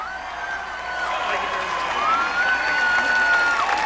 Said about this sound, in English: give a big round of applause for Ben Cohen from Ben & Jerry Ice Cream